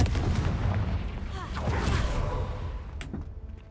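A Confringo fire spell bursts in Hogwarts Legacy, giving a dense rumbling blast with whooshing trails that fades over a few seconds, with a sharper crackle near the end.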